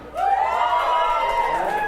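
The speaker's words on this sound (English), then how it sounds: "give me a big round of applause." An audience at a stand-up comedy show cheers and whoops in a loud, swelling burst of voices, close and lively, lasting under two seconds.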